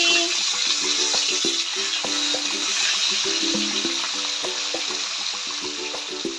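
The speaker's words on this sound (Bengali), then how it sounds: "আমার একদিকটা মাছটা ভাজা হয়ে গেছে আমি এবার উল্টে দিচ্ছি" Fish sizzling steadily in hot oil in a pan, with loud continuous crackling and repeated clatter from a utensil turning the pieces over, heard up close with no voices.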